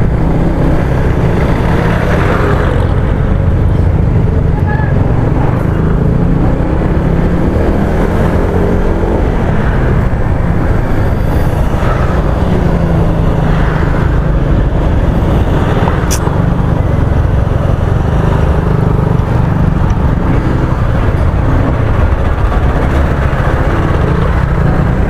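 A Honda PCX 160 scooter engine drones loudly and continuously while climbing uphill, straining with a steady buzzing roar and slight pitch shifts, close up with wind rush.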